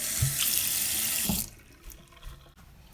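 A bathroom sink faucet runs hard and steady while rinsing during hard water buildup cleaning, a loud close hiss that cuts off about halfway, leaving quiet room tone with faint knocks.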